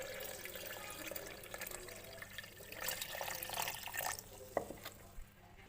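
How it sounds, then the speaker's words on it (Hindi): About a litre of water pours into a grinder jar holding falsa fruit, a continuous soft splashing and gurgling stream that trails off into drips near the end. "और इसमें 1 लीटर के करीब इसमें पानी डालते हैं।"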